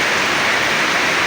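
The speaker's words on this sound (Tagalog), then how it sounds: "Lakas ng ulan oh." Heavy rain pours steadily in a dense, continuous hiss, loud and close, with no voices over it.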